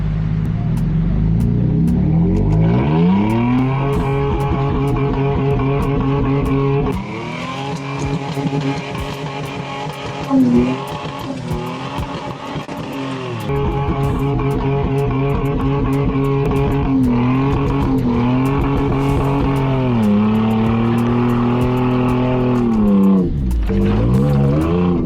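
A stuck car's engine strains and revs as it climbs off the sand onto a beach ramp, a loud sustained drone rising and falling in pitch for most of the stretch, with brief talk in between.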